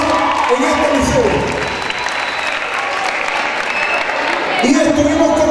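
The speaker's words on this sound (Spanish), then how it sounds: "Un aplauso para la cultura popular en este liceo." Applause from an audience at a school (liceo) gathering in Maracay, a broad sustained clapping that dips slightly in the middle, with a voice speaking over it at the start and again near the end.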